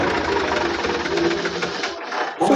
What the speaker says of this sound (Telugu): సెల్ఫ్ మోటార్ ఇట్లా టంగున కొట్టంగానే అది లేచిపోతుంది